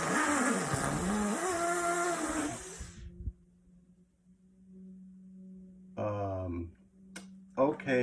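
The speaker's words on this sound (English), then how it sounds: "there was a rush of a mighty wind." A loud, roaring rush of wind fills the first three seconds as a sound effect, then cuts off abruptly, leaving a low hum before a voice speaks briefly near the end.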